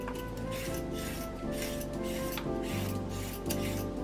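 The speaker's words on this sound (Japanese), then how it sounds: "次に人参を皮を最初に剥いていきましょう。" A carrot being peeled for dry curry: continuous rasping, scraping strokes close by, heard under background music.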